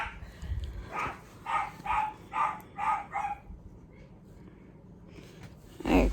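Guard dogs barking indoors in a house, a run of about six fairly quick barks at moderate distance, then a pause and one more louder burst, with faint background noise.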